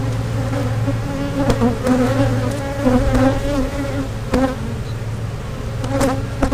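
Honeybees buzz around an open hive in a backyard apiary during a health check, a dense, close, steady hum with individual bees droning past the microphone, no talk.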